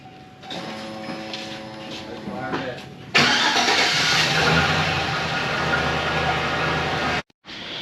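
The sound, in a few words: 2006 GMC Sierra truck engine starting after fuel pump replacement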